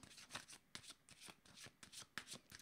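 Tarot cards shuffled and drawn by hand at a reading, giving quick, close papery riffles and soft slaps in an irregular rhythm, fairly quiet and with no voices.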